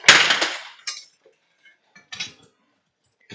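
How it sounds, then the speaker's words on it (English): A metal hammer set down on a hard work surface, a sharp clanking impact with a ringing tail, followed by a few lighter clinks and knocks in a quiet room. "Set the hammer aside."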